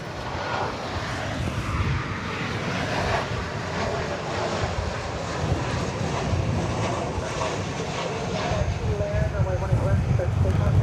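American Airlines flight 878 departs DFW Airport with a loud, steady jet engine roar that builds slightly toward the end, while a person talks over it.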